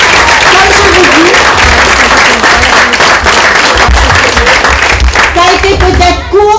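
Loud, dense applause from an audience at a school fete, clapping for children who performed, steady and crowded throughout with a few voices calling out near the end.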